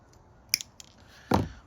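Sharp snip of a cutter through the plastic fins on a Tamiya 1/48 F-14A VX-4 model kit, a few small ticks and clicks first, then one loud, close crunching cut.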